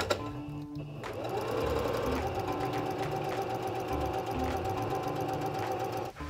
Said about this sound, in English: I'm gonna take this to my sewing machine. I'm gonna sew as close to the teeth as possible.